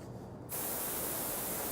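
Compressed air rushes through a Fusion AP air purge gun, a sudden loud, steady hiss that starts about half a second in and holds unbroken to the end.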